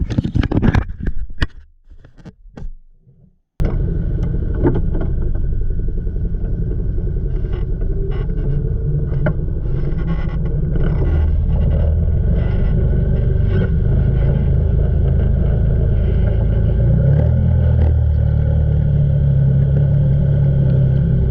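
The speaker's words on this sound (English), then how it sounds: "we're going to go ahead and try to go through it four-wheel drive and hope she pulls us all the way through to the other side" A 2008 Can-Am Outlander 800 Max XT ATV churns through a deep pond in four-wheel drive, its engine a steady, heavy rumbling drone close by, after a few seconds of brief clattering and splashing before it settles into the sustained roar.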